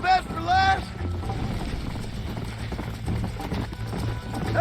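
A horse gallops at a steady clip-clop in Red Dead Redemption over a constant low rumble, with a whinny at the start and brief voice sounds near the end.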